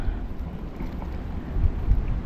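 Wind buffets a fishing boat at sea, a low rumbling roar of gusts against the microphone, with no voices.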